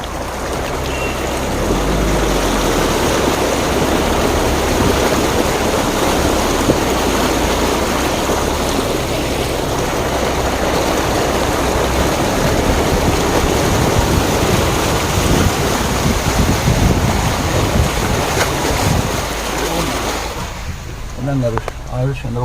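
Heavy rain falls in Sivakasi with water rushing and flowing, a dense, loud, continuous roar that fades near the end into a few faint higher sounds.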